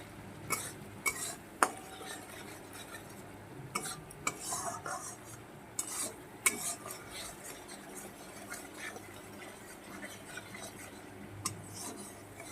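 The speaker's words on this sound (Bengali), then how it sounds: "এটাকে দিয়েও আমি বেশ কিছুক্ষণ কষাবো" Bitter gourd stir-fried in a pan with salt, turmeric and dry chili powder, with a low steady sizzle broken by repeated sharp scrapes and clinks of a spatula against the pan, close by and with no voices.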